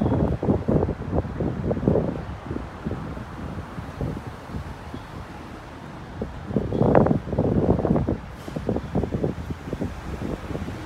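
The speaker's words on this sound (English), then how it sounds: "Very, very windy." Strong gusts of wind buffet the microphone outdoors, producing loud, irregular low-pitched bursts of rumbling that surge and ease in waves across the whole stretch.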